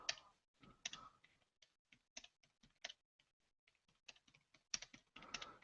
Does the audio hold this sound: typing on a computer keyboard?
yes